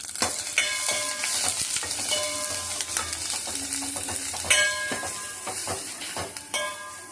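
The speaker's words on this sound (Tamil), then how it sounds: "ஒரு தவாவில் எண்ணெய் விட்டு கடுகு போட்டிருக்கேன்." Mustard seeds and curry leaves fry in hot oil on a tawa, with a steady bright sizzle, scattered pops and occasional stirring scrapes close by; no one speaks.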